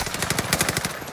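Armaguerra 43 submachine gun firing in a video game: a rapid, steady burst of close, loud shots with an even rhythm running the whole way through.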